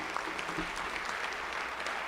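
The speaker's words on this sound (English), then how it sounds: "So one more round of applause for these guys." Applause from a crowd at a high school football awards ceremony, a brief, moderately distant stretch of steady clapping with no one talking over it.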